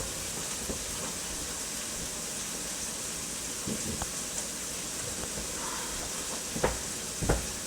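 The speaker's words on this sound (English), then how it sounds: "you hear the onions and garlic and bell peppers sizzling away" Onions, garlic and bell peppers sizzling in a pan, a soft continuous crackling hiss heard quietly from a distance, with a few scattered clicks and knocks.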